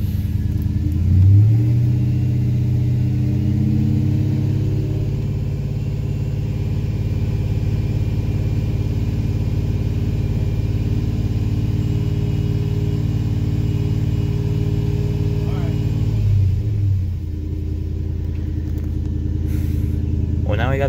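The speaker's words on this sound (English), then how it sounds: "rev it up to like 2000 RPM" A Toyota Tundra pickup engine idles with a steady low rumble, then revs up to about 2000 RPM near the start and again around the sixteen-second mark, with a voice talking over the engine throughout.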